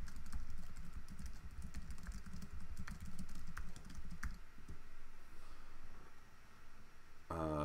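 Keys clatter on a computer keyboard in quick, steady typing that runs for several seconds, close and clear, then stops near the end.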